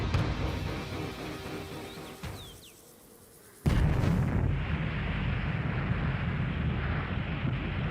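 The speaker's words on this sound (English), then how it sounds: "The first nuclear bomb in history." Trinity atomic bomb test in the New Mexico desert, 1945: a sudden massive blast slams in after a hushed lull, followed by a sustained loud, roaring rumble that rolls on without fading.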